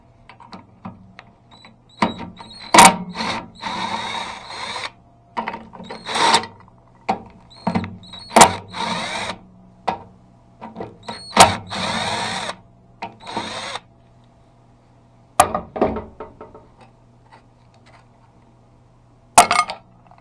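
A power drill whines in short bursts while backing bolts out of a Rally rototiller engine, each run punctuated by sharp metallic clinks of bolts and tools, with quiet gaps between.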